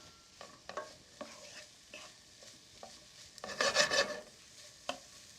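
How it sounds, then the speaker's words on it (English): Onions and jalapeños are stirred in a hot pan, with scraping spoon strokes over a faint sizzle and one longer, louder scrape burst near the end. "mix that around in your pan. Turn that heat back up."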